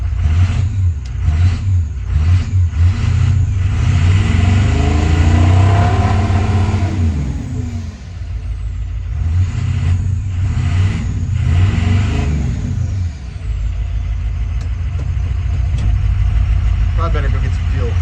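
A 1979 Ford F250 pickup with a swapped-in 6.0 Powerstroke diesel runs close by, a loud, deep rumble that revs up twice and then settles into a rough, uneven idle, with voices faintly beneath it.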